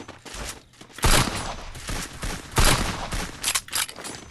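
Bursts of gunfire in Counter-Strike, loud volleys at about one second and two and a half seconds with scattered smaller shots in between, close and sharp, almost without talk.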